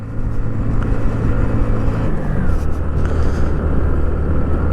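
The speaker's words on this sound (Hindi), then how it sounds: "दूसरे तीसरे गियर में चल रही है बस।" A bus engine labours up a high Ladakh mountain road toward Taglang La in second or third gear, a loud, steady low drone that stays close throughout without letting up.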